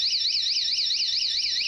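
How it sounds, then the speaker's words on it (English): A loud pool safety alarm sounds alone, a shrill electronic tone that warbles rapidly up and down in a continuous, steady pattern. "loud alarms like this may be annoying"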